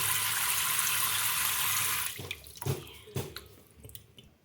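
Water is poured over mung beans in a bowl to soak them, a steady rushing splash for about two seconds. It then stops, leaving a few drips and soft knocks in near silence.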